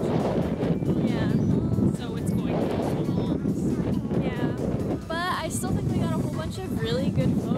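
Strong wind buffets the microphone in a constant low rumble outdoors at a small convention while people talk over it.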